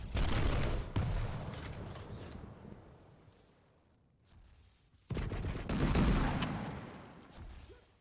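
Loud, close weapon blasts and booming impacts from a Quake Pro League match, with railgun shots in a dense burst at the start, a quieter lull, then another heavy burst with no voices over it.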